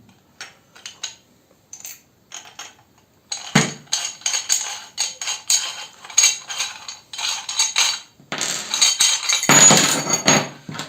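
Hard aluminium and chrome parts of a Yui M200 stand mixer's meat mincer attachment being handled, a series of sharp metallic clinks and knocks, sparse at first then busier and louder, close up with no talk.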